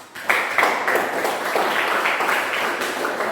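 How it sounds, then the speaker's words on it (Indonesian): A class of students in a vocational classroom lesson breaks into applause, starting abruptly after a brief lull and holding as a moderately loud, steady patter of many hands. "Tepuk tangan untuk kita semua"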